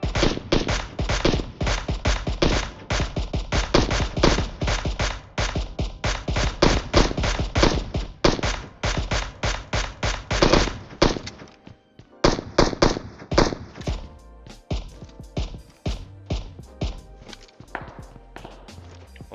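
Rapid bursts of gunfire in PUBG Mobile, loud and close, long stretches of sharp repeated shots with brief pauses, then sparser scattered shots as the firing thins out toward the end.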